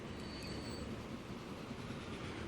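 Idling train in the rail simulation game Transport Fever, waiting at a signal: a steady, low rumble of engine and rail ambience holds constant throughout, with a faint high tone drifting above it.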